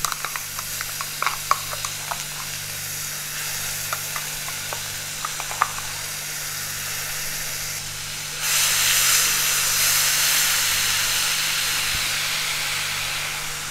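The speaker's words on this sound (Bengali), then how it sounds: "তেলের মধ্যে পেঁয়াজ বাটাটা ভালো করে ভাজা ভাজা করে নেব" Onion, ginger and green chilli paste frying in hot oil in a home kitchen, a steady hiss with scattered crackles and pops that swells into a louder, continuous steamy sizzle partway through, with a low electrical hum underneath.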